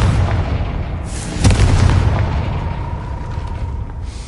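A Confringo spell explosion in Hogwarts Legacy lands with a deep boom and a sharp crackling burst, then a rumbling tail that slowly fades under a faint steady tone, with no voices.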